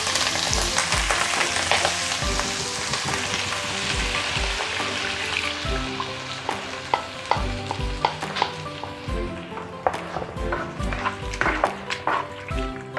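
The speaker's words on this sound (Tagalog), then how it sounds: "So lutuin lang natin to ng at least mga 3 to 5 minutes hanggang sa mag-thicken na yung kanyang sauce" Chicken carbonara sauce with mushroom soup cooks in a pan, giving a loud, continuous sizzle with repeated close clanks and scrapes of a spoon throughout and no talking.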